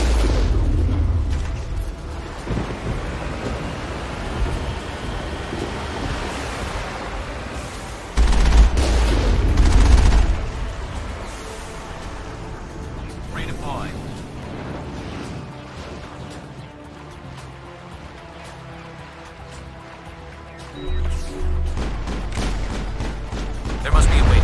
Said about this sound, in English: find a way to disable their artillery